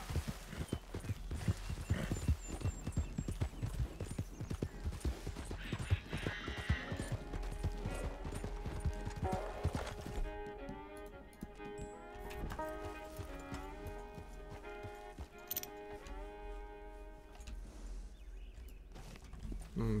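A horse in the video game Red Dead Redemption 2 gallops with rapid, rhythmic hoofbeats, then slows to a walk as music rises in the background.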